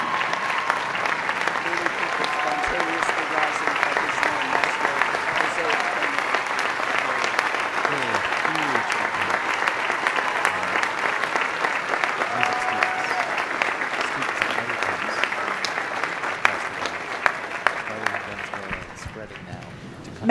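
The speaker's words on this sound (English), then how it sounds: "We applaud Maestro José Antonio Abreu." Sustained audience applause at a university honorary doctorate ceremony in music, a dense, even wash of many hands clapping for about twenty seconds, tapering slightly near the end.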